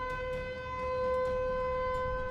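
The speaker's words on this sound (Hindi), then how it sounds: "नोएडा के सेक्टर 93A में सायरन की आवाज तेज होती चली गई।" A demolition warning siren in Noida Sector 93A, before the Twin Towers blast, wails with a sustained, unwavering tone over a low rumble, loud and continuous throughout.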